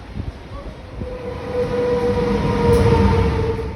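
A train in the Swiss Alps near Zermatt rumbles past nearby, its rolling noise building and holding steady with a faint high whine over the wheels.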